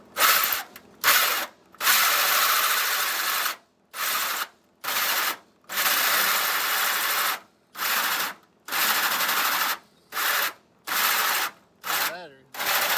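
A power drill bores through metal while a vintage AC system is fitted to a 1966 Chevy Chevelle, running in about a dozen loud, close bursts separated by short pauses.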